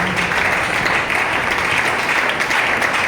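A church congregation applauds at a French-language worship service, steady dense clapping that fills the room and sustains evenly throughout.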